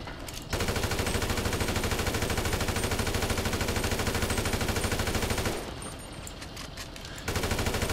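Sustained automatic gunfire rattles in GTA 5 Online, loud and dense, with a short drop to a thinner layer of distant shots before the heavy burst resumes. No one talks.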